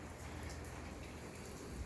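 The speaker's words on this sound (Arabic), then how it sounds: "ما شاء الله امطار ما شاء الله." Steady rain falls in a dense, even hiss of drops that persists throughout, with no voices heard.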